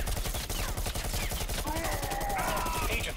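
Rapid automatic gunfire in the VR shooter Bullet Train, with dual-wielded AK-47s firing a dense, continuous stream of close, loud shots throughout.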